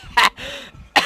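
Two sharp, close coughs separated by a short, throaty vocal sound.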